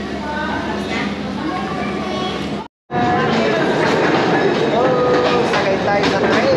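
A train in Taiwan rumbles loudly and close with a dense rattling roar and squeals. The sound breaks briefly before resuming even louder, and people talk over it.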